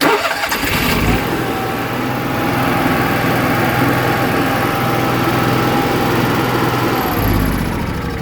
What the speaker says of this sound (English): And simply press stop to turn the generator off.